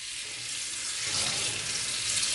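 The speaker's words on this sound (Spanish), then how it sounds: "distribuís bien el detergente y después la enjuagás" Running water from a tap rinses detergent off a diving mask, a steady close hiss that swells slightly as the mask moves under the stream; no speech.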